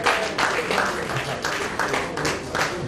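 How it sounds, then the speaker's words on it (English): An audience at a religious freedom conference applauds an award winner, a dense wash of clapping that holds steady for three seconds and sounds moderately close. "A round of applause for Dr."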